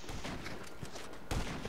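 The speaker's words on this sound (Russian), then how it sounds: "Чувак, тут стрельба идет" Gunfire in GTA Online: rapid, muffled bursts of shots run through the clip, with a heavier, louder volley near the end and no talking.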